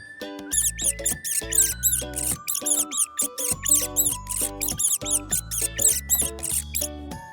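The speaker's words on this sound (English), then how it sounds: "Mouse." Squeaking mouse voiced over a bright jingly children's tune, with rapid high chirping squeaks repeated in quick bursts throughout against the music.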